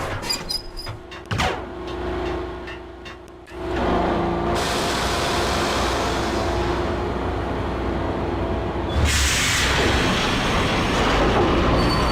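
A train in the Max Payne video game rolls along the rails, starting with clanks and a low hum, then swelling into a loud, steady rumble with wheel noise and a brighter surge near the end.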